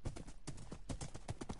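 A horse's hooves clip-clop in a quick, steady rhythm, close and distinct, about a dozen crisp strikes over a faint low hum.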